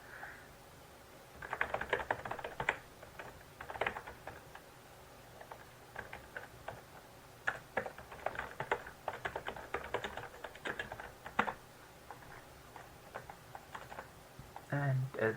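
Computer keyboard being typed on in bursts of quick, light clicking keystrokes, fairly faint and close, with brief pauses between runs.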